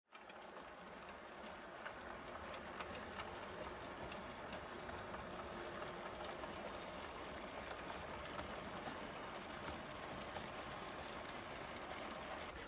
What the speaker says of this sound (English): Hopefully it gives you something that's fun going on in the background with trains running in and out